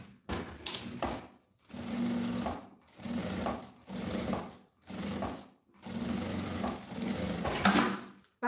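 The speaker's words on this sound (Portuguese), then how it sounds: "pego meu tecidinho, vou colocar a estampa de frente aqui pro material de forro e passo uma costura" A sewing machine stitches a seam joining printed fabric to lining for a necessaire, running in several steady bursts of a second or so each with brief pauses between, loud and close, no talking.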